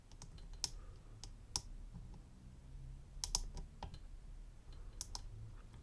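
A lock pick works the pins of an Apecs euro cylinder, giving faint, sparse clicks and small ticks at irregular intervals against a low background hum.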